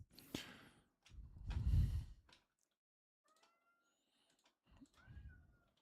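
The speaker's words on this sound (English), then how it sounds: "Oh, sad cat outside the door." A cat meows outside a door during a home poker game, a couple of fairly close, drawn-out cries separated by quiet gaps.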